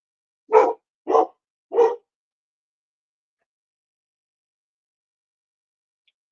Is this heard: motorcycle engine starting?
no